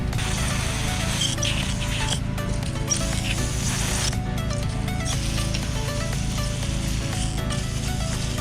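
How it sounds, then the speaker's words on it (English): Carb cleaner sprays onto the VVT solenoid of a 2014 Hyundai Elantra, making a continuous close hiss that runs unbroken throughout. "And then just spray it down, carb cleaner."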